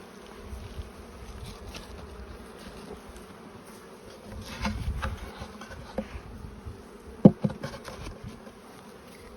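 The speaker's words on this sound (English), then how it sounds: "Nice little boost. Very young bees." Young bees in a hive brood nest buzzing continuously close by, a dense, steady hum with occasional louder individual bees passing near, plus a few faint knocks and handling sounds, with no talking.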